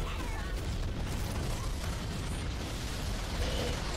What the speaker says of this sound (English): Oh, Michael Bay up in this bitch. Explosions.